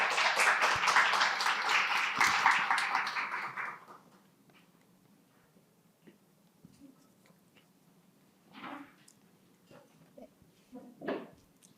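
Audience clapping at a Korean social service investment exchange event, a dense burst of applause for about four seconds that cuts off into a quiet room with a few faint knocks and shuffles.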